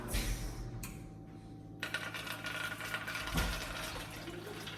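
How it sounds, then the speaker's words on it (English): Pumpkin seeds and water poured into a cooking pot, a close splashing pour at the start, then rattling and clattering handling noises with a knock near the end. "I'm just gonna pour everything inside the pot."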